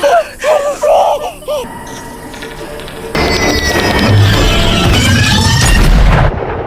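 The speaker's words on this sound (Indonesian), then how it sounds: "Menyadari suara tembakan tersebut" A gunshot in a film about a sound-sensitive monster lands as a loud, heavy boom partway through, followed by sustained roaring noise and rumble, after a stretch of tense, brief vocal sounds.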